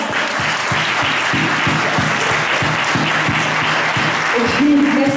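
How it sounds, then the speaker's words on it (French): An audience at a Téléthon concert applauds loudly, a thick sustained wash of many hands clapping with a few stronger rhythmic claps, close and continuous, with a voice rising briefly near the end. "Vous pouvez l'applaudir très très fort"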